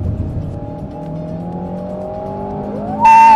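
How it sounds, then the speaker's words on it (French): A 300-horsepower car accelerates on a race circuit, its engine a loud, steady drone whose pitch climbs as it gathers speed, ending in a sharp, louder burst. "Vous entendez le bruit du moteur? Il fait des dingueries."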